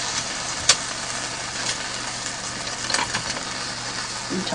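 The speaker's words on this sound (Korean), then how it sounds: "깻잎전 익어간 소리가 들리시나요" Soft, steady sizzling of perilla leaf pancakes frying in a pan, a quiet continuous crackle with one brief sharp tick near the start.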